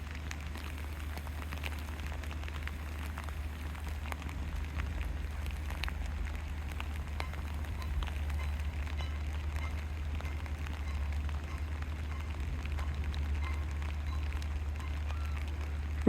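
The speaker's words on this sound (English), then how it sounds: "You can certainly see the rain now" Soft, steady patter of rain on surfaces, faint and continuous for the whole stretch, over a low rumbling background hum.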